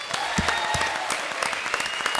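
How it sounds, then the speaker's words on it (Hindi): A studio audience at a Comedy Circus comedy show claps loudly for actress Helen, a full, sustained burst of applause with sharp individual claps standing out throughout. "हेलन जी के लिए एक बार जोरदार तालियां"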